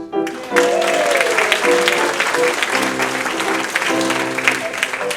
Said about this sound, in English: a final applause for a wonderful audience